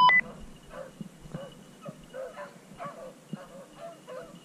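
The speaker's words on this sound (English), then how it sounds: "The dog's circling around now." A beagle yips and bays in short, repeated bursts while trailing a rabbit during a Kansas rabbit hunt, heard at moderate distance in open country with steady background noise.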